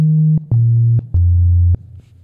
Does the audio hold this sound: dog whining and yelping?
no